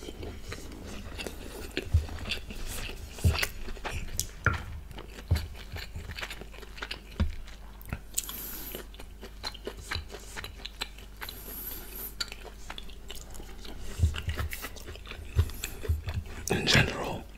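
Close-up crunchy chewing of thin egg noodles, irregular crackling bites repeating throughout, with soft mouth noises between them.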